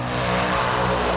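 A propeller aircraft engine drones loud and close, a steady buzzing hum with a throbbing low beat and no break.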